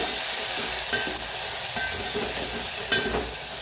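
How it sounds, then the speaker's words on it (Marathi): Tomatoes and coriander roast with red chillies in a hot pan, producing a continuous loud, close frying hiss with a few faint scrapes of stirring, and no voices. "आता त्याच्यातच टाकूया टमाटर आणि कोथांबीर छान असं भाजून घेऊया"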